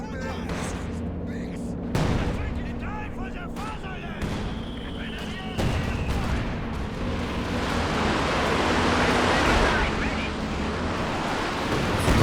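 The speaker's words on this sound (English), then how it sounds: "Oh, and the howitzer landing." Howitzer shells landing in Company of Heroes 2, several heavy booming impacts spread across the stretch amid rolling battle noise and dense rumble, with a commentator talking throughout.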